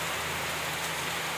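Steady monsoon rain pours over a village in Mangavli, a dense, even hiss of falling drops that holds without pause throughout, fairly close and with no voices over it.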